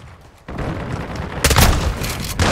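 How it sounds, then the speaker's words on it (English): Heavy booming shots from a shotgun in the video game Modern Warfare 2, a couple of loud, broad blasts over continuous battle noise, close and forceful. "Yeah, he's using a shotgun"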